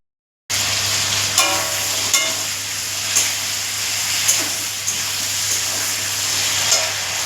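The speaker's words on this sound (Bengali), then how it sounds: "তো চলো আগে আলুটা ভেজে নিই লাল লাল করে" Potatoes fry in a pan with a loud, continuous sizzle close by, broken by a few light clinks of stirring.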